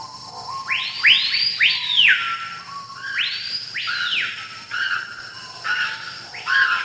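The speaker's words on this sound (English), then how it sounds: "The trees here are in misery and the birds are in misery. I don't think they sing, they just screech in pain." Harsh screeching bird calls in a video game setting, several loud rising-and-falling cries in close succession, then pauses and further bursts, heard up close with no talk.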